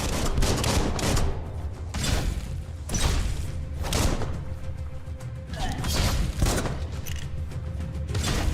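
Gunfire in the Biomutant video game comes in repeated loud, dense bursts and booms at irregular intervals, with mechanical clatter between the volleys.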